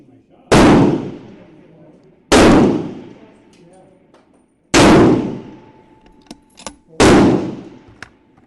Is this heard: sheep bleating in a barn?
no